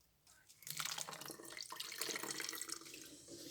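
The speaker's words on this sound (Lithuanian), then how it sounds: "225 gramus vandens destiliuoto." Distilled water pours into a container for a copper coating solution, a short splashing trickle that starts after a quiet moment and flows steadily and close to the end.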